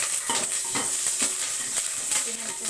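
Spices, green chillies and curry leaves frying in a pan for coconut rice, a steady hiss of sizzling oil broken by repeated scraping stirs of a spoon, close up with no talk.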